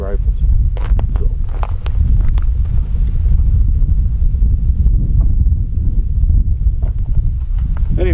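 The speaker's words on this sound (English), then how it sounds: "the wind's starting to blow" Wind blows steadily outdoors on a cold day, making a constant low rumbling buffet against the microphone, with faint rustling and a few scattered soft knocks through it.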